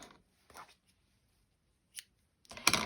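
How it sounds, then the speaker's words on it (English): Scissors snip through crochet yarn in a few short, crisp cuts spread across a quiet moment, the last one closest and loudest. "And then I can just cut my yarn"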